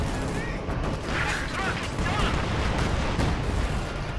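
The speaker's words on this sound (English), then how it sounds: "He calls in a major Katyushka." A Katyusha rocket artillery barrage in Company of Heroes 2: a dense, continuous roar of overlapping blasts and crackling volleys with a rumbling low end, sustained and loud for several seconds.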